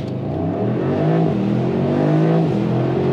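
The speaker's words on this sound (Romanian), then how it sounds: "Foarte eficientă accelerație, efectiv un munte de cuplu." Mercedes SL 63 AMG in Race mode launching from a standstill under hard acceleration: a loud, continuous engine roar that climbs steadily in pitch through the gears, heard close from inside the car with no talk over it.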